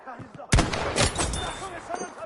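Gunfire in Battlefield 5 lands a headshot: one sharp, loud shot bursts in, followed by more reports and rumbling battle noise, with faint voices underneath.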